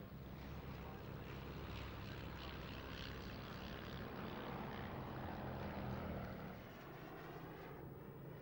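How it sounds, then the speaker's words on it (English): Lancaster bomber and Spitfire propeller aircraft flying past at an air show, a loud sustained rumbling drone of piston engines that swells and then fades slightly toward the end. "And here's the RAF's Battle of Britain Memorial flight, well, at least 2 of them, the Lancaster and one of the Spitfires."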